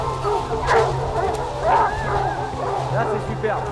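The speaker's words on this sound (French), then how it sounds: "Regardez les chiens, regardez-les." Hunting hounds bay and yelp in a French forest stag hunt, a pack of excited barks rising and falling, with someone talking over them.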